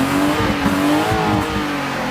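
A cold car engine revs hard at full throttle while stuck in mud, a steady loud droning roar with rising tones holding for a couple of seconds, close by and with no talk over it.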